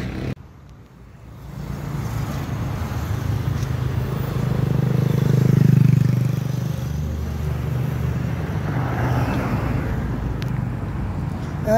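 Motorcycles and cars passing on a street in Campo Grande, Rio de Janeiro, engines swelling to a loud pass near the middle and then continuing as a steady traffic drone.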